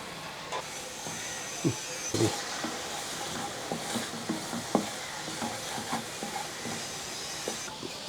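A pot of Kerala-style drumstick leaf and mango curry simmers on the stove as its water cooks off, a soft steady hiss with scattered light bubbling pops and occasional utensil clicks, fairly quiet.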